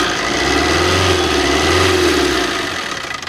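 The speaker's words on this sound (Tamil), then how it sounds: "இன்ஜின் இப்போது ஸ்டார்ட் பண்ணி இந்த டீசல் இன்ஜின் நாய்ஸ் எப்படி இருக்குது அப்படின்னு சொல்லிட்டு நம்ம கேட்கலாம்." A diesel car engine idles with a steady, smooth mid-pitched hum and a slight rise in revs, close and loud, settling toward the end with no talking.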